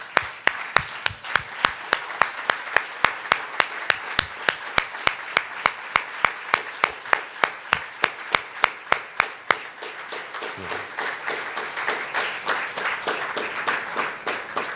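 Sustained applause from an audience rising in a standing ovation for a professor's talk, with dense, steady clapping close by that holds at an even level and then softens slightly into a looser patter near the end.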